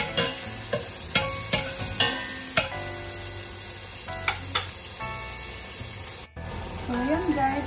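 Chopped onions hit hot oil in a pan for chicken tinola, sizzling and crackling steadily, with sharp clicks of a utensil stirring and scraping the pan at irregular intervals.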